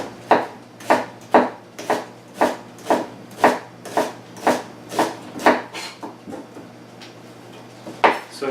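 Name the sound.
chopping food with a knife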